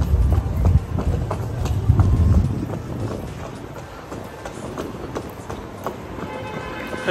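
A Budapest metro train at Kőbánya station gives a loud rumbling roar with clattering and hiss, heaviest at first then easing slightly, steady throughout with wind buffeting the microphone and no clear talk.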